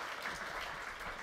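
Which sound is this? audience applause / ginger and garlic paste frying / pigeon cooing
audience applause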